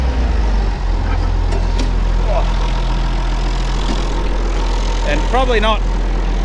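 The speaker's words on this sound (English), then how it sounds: "Got to rev it to get it to start charging." An old tractor engine runs loud and close in a workshop, a heavy steady rumble held at raised revs, while someone speaks briefly over it.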